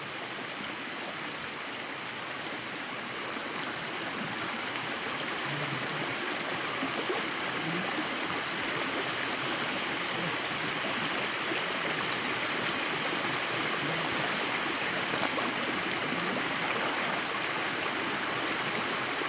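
River water runs steadily as a herd of buffaloes leaves the river, a broad continuous rushing wash at even loudness for the whole stretch.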